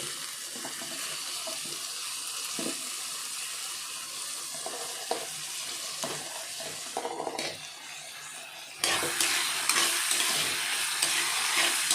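Tomatoes sauté for a drumstick vegetable kurma, a steady close sizzle with repeated scraping stirs in the pan, growing louder and brighter near the end, no voices.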